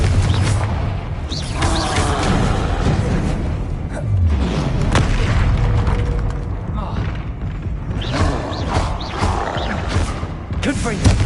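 Confringo spell explosions in Hogwarts Legacy go off as booming thuds amid busy combat noise, with repeated loud impacts over several seconds and a voice speaking throughout.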